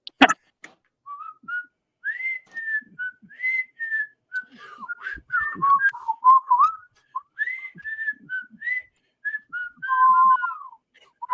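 Someone whistles a wandering, tuneful melody close up, with short breathy gaps between phrases and no talking.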